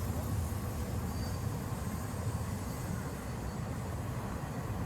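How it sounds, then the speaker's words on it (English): A passing train makes a loud, continuous low rumble with broad roaring noise that stays steady and close throughout, heard outdoors during a roadside DUI stop. "I was just saying the train is quite distracting."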